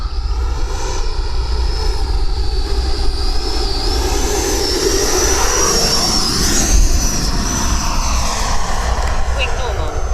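An E-flite Viper electric ducted-fan RC jet flies overhead with a loud, continuous high-pitched whine that rises and falls as the throttle is modulated, and a voice speaks over it.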